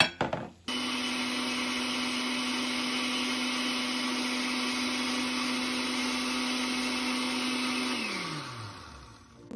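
A blender grinding guacamole ingredients whirs steadily at a high, constant pitch for several seconds, then winds down as the motor shuts off.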